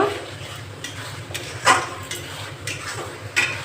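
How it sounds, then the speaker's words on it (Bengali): A spoon stirs chopped tomato with spiced onion paste in a pan, making intermittent scraping clinks against the metal about every half second over a soft sizzling background. "টমেটো কুচি দিয়ে আমি একটু নেড়ে নিয়েছি"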